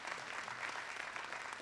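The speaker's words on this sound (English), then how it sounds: "you can give him a round of applause." Steady applause from a commencement crowd at Dartmouth, dense hand claps filling the space with no voices standing out.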